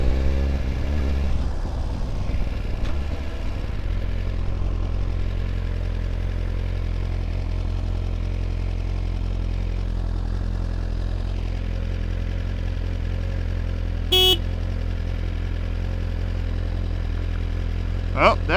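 A 2025 Suzuki GSX-R1000R motorcycle ridden in a straight line, its engine a loud, steady drone with a brief rise near the start, heard continuously up close as wind rushes past.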